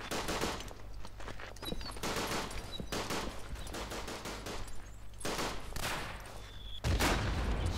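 Gunfire in the World War I shooter Verdun crackles in dense, rapid volleys of overlapping shots, loud and almost continuous throughout.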